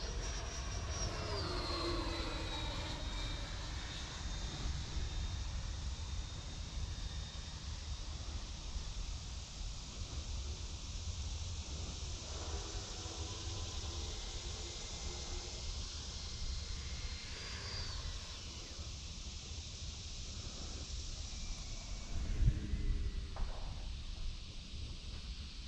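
A Freewing Mirage 2000 80mm electric ducted-fan RC jet flies overhead with a sustained high whine. The whine shifts in pitch as the model passes and banks, over light wind noise, at moderate distance.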